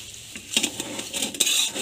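Podi atukulu, a flattened rice snack, tossed and mixed in a metal pan: a utensil clinks and scrapes against the pan in quick, irregular strokes, close up, with no speech.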